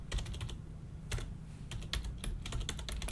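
Rapid typing on a computer keyboard, close and clear, with bursts of quick key clicks broken by short pauses.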